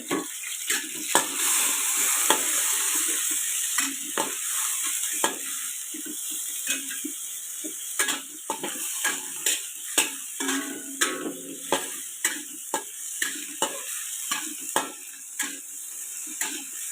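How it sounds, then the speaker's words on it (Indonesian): Food fries in a pan on a stove, with a constant loud sizzle and regular scraping strokes as it is stirred and turned, close up and without talk. "Digoreng-goreng."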